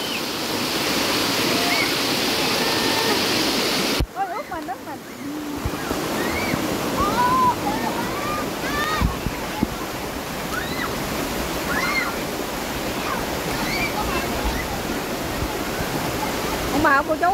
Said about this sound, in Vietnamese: Nước ở trên nó chảy xuống nhà ào ào ào ào.